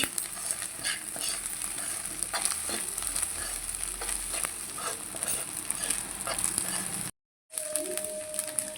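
Steady sizzling of fish and spinach frying in oil with coriander, a dense crackling hiss with occasional stirring scrapes, continuous and close, cutting out briefly near the end.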